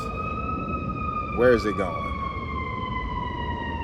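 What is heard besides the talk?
fire truck siren passing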